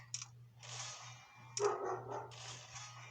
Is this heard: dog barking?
yes